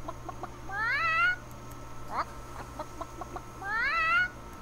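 Chicken clucking in a video game: two rising, warbling cluck calls a few seconds apart, close and clear, with a few soft clicks and a short squawk between them over a low steady hum.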